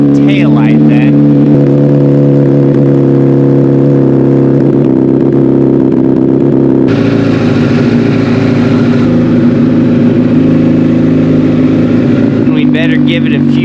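A first-year Honda CBR1000RR sport bike engine runs loud and close, holding a steady idle before climbing into a revved, rougher drone, then settling back near the end.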